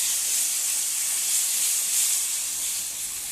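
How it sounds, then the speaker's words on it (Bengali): A sour curd and spice mixture fries in a pan for ghugni, giving a steady, even sizzle that holds close and constant without pause. "এইবার টক দইয়ের এই মিশ্রণটা মশলার মধ্যে দিয়ে আর একটু ভালোভাবে কষিয়ে নিচ্ছি।"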